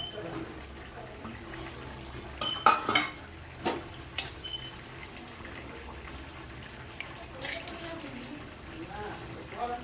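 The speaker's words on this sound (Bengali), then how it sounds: "এবার আমি মাছগুলো দিয়ে দিচ্ছি।" Fish pieces go into a pot of boiling fish curry with a few clattering knocks of a utensil against the pot over a faint simmering bubble, and a voice speaks briefly in the background.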